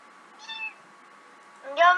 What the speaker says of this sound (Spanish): ¿Quién tiene gatito?